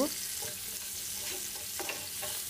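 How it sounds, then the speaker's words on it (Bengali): Chopped onions fry in oil with a bay leaf, giving a loud, dense sizzle throughout, with a few light spatula scrapes in the pan. "আর দিয়ে দিচ্ছি পেঁয়াজ কুচি। পেঁয়াজটা আমি কিছু সময় ভেজে নিব"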